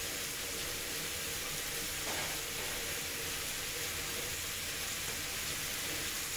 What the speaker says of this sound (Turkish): soğanımı veriyorum. Soğanla pişireceğim.